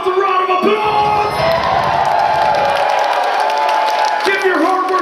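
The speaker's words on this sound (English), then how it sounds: "Give yourselves a round of applause." A concert crowd at a death metal festival cheers, whoops and applauds in a loud, dense roar. Amplified sustained tones from the stage sit over and around the noise.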